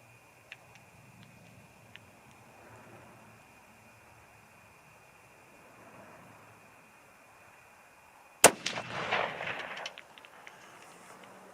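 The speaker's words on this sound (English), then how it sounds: "Here we go, 3 shots." A single sharp, loud 6.5 caliber rifle shot fired through a muzzle brake cracks out of quiet outdoor ambience, followed by a brief rumbling echo that fades over about a second.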